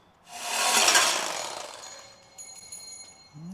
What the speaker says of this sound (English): I think we're going to try and cut just a smidge off of that collector piece.